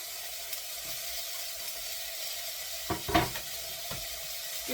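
Garlic sizzling in a pan with softened vegetables for sweet potato and rosemary soup, a steady low hiss with a few louder stirring clatters near the end.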